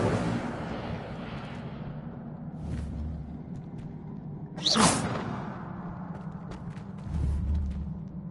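The Incendio fire spell in Hogwarts Legacy fires off a single sharp whoosh of flame midway, rising out of quiet background rumble before subsiding, with a few faint low thuds around it.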